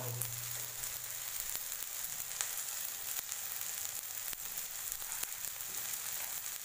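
Green mung dal sizzles steadily in a hot pan while it is stir-fried with turmeric, red chili, ground coriander and garam masala. The frying is close and continuous, with faint scraping stirs and no voices.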